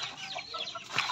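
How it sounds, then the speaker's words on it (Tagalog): Native chickens cluck nearby in a quiet farmyard, a short run of soft, overlapping clucks and chirpy calls lasting about a second. "nasalubong na tayo ng ating mga alagang native chicken"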